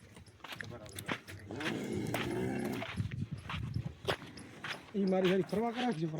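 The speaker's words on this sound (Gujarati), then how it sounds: "આઠમા નંબરની ગાય ચડે છે" Cows climb into a truck in Jamnagar one after another, their hooves clattering and thudding on the truck bed in uneven steps while people talk loudly nearby.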